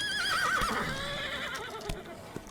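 A horse whinnies in the Roblox game The Wild West, a loud wavering neigh up front that trails into softer snorting and faint hoof-like knocks, with no voices over it.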